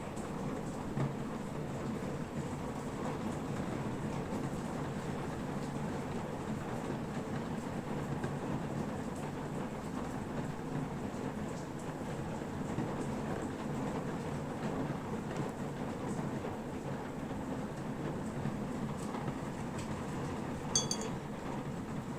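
Heavy rain falls in a steady, dense, loud wash that holds unbroken throughout, with no talking.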